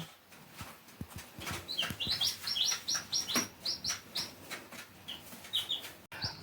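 Young chicks chirp in quick, high, repeated peeps under a hen's care in a coop, with close, busy bursts coming in clusters over soft rustling and handling noises.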